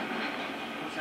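A moving train in the Uncharted 2 video game rumbles along with a steady, dense rolling noise and faint rail hiss, continuous and fairly close, with no clear speech over it.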